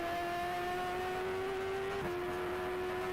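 A steady, fairly quiet engine drone from a racing video game car holds one pitch, then steps slightly lower partway through, sounding like an engine cruising and shifting, with no talk over it.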